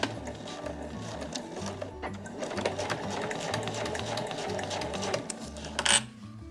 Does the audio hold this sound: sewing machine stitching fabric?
yes